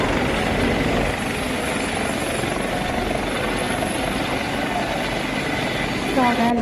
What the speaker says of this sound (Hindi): viral video Gadkari helicopter express way से